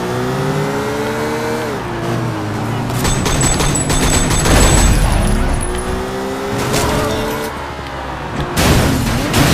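Gunfire in the video game Sleeping Dogs: bursts of shots cracking over loud revving car engines during a chase, close and dense, with sharp impacts scattered through the roaring traffic.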